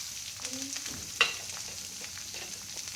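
Chopped beetroot, onion, green chili and curry leaves fry in a pan with a steady, soft sizzle. A single sharp utensil clink sounds partway through, close and clear above the hiss.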